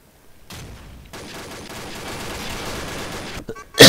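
Gunfire in the online shooter Combat Arms: a rushing burst of sustained firing noise that builds across the middle, then a sharp, loud shot crack right at the end.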